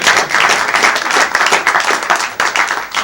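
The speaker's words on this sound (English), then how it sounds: "Let's give him a round of applause." Dense, steady applause from an audience fills the room at a close-up parlour magic show, loud and continuous with no talking over it.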